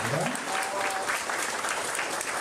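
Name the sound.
audience applause welcoming guests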